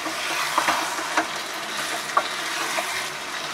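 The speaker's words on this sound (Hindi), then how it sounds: "और इसके ऊपर से हम क्रीम ऐड कर देंगे और इसे भी मिक्स कर लेंगे।" Steady scraping and stirring as cream is mixed into chicken tikka masala gravy in a pan, with a soft sizzle underneath, punctuated by a few light clicks of a spoon against the pot.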